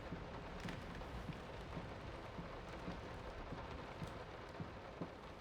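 Steady rain from the horror video game Layers of Fear, a dense continuous wash with faint low rumbles beneath it, heard alone without talk.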